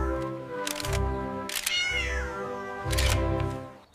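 A fluffy Persian kitten in a cartoon meows several times in short, bright calls, close and clear over a steady tonal background.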